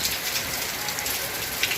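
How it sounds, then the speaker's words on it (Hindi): Steady rain falling outdoors, a dense, even hiss of drops spattering on surfaces, close and continuous with no voices. "बारिश में खड़े होकर हम वीडियो बना रहे हैं आपके लिए"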